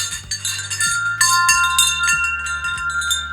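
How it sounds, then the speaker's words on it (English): A newly bought wind chime rings close by, with overlapping metallic tones struck in irregular clusters that keep sounding under a low hum throughout. "we bought a wind chime"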